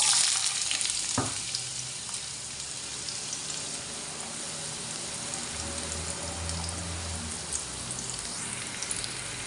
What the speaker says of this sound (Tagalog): Gigisa ko na nga po yung sibuyas.